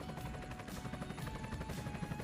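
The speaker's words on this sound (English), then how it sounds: "Air ambulance helicopter." Air ambulance helicopter heard close, its rotor blades beating in a rapid, steady thudding chop over a continuous engine roar, loud and alone.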